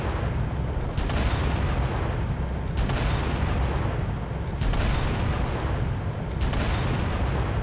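Heavy, booming gunfire in Halo: Reach on Xbox 360 rumbles on continuously, with sharp shots cracking out at regular intervals over the dense roar.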